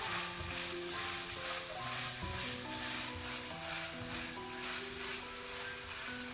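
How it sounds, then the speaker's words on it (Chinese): Diced pork with chopped scallion, ginger and garlic sizzles loudly and steadily in a wok, stirred continuously with a constant frying hiss throughout. "再将切好的葱花、姜末、蒜末倒进来，翻炒均匀，炒出香味"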